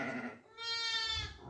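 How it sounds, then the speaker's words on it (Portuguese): A sheep bleats once, a wavering, harmonic-rich call about a second long, moderately near against low outdoor background noise on a farm. "Olha lá, ovelha."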